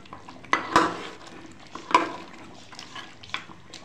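Beef trotters (paya) stir-frying in a pan: a soft, low sizzle punctuated by a few distinct scraping and clinking strokes of a spoon against the pan, heard up close and fairly quiet.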